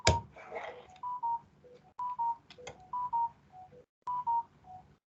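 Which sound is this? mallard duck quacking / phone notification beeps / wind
phone notification beeps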